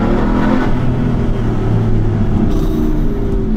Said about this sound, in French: Chaque fois que tu es sur les gaz, doucement, fort, ça fait pas le même son.